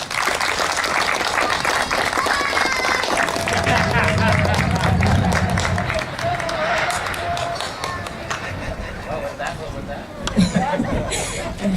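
Audience clapping and cheering at the opening ceremony of a bonsai and orchid exhibition in Melbourne, sustained applause with crowd chatter and a voice speaking over it.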